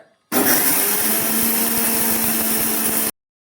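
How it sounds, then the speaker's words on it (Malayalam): A kitchen mixer grinder whirs loudly while grinding rice flour, starting abruptly and running at a steady, harsh high-speed roar for about three seconds before cutting off. "വെച്ച അരിപ്പൊടി ഒന്ന് മിക്സിയിൽ ഇട്ടിട്ട് ഒന്ന് അടിച്ചെടുക്കണേ"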